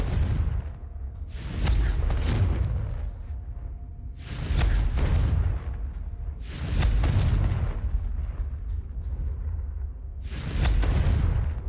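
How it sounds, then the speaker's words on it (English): Several Confringo explosion spells in Hogwarts Legacy, each a loud, booming burst with a crackling tail, arriving roughly every two to three seconds with no talk. "Confringo."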